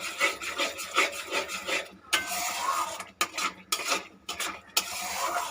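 Spoon rubbing and scraping through spices in a pan while cooking Bengali chicken kosha, a dense continuous grating stir with a few short breaks.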